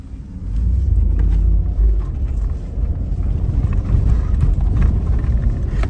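A stock 2017 Subaru Forester with all-wheel drive rolls through a snowy parking lot on snow 2 to 12 inches deep, its engine a steady, loud low rumble with some crunching texture, close and without speech.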